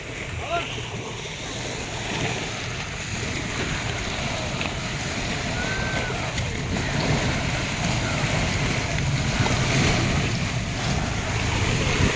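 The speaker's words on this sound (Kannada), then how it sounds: "ಇದು ಲಾಂಚು, ನೀರು ನೋಡಿ." A ferry launch near Shivamogga churns through the water with a low steady engine rumble, splashing and wind noise building gradually, heard close and continuous.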